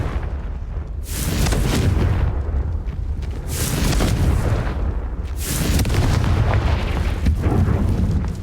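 Repeated Confringo blasting spell explosions in Hogwarts Legacy: three loud, crackling bursts roughly two seconds apart, each a sharp bright crack over a continuous deep roaring rumble, close and heavy throughout with no talk.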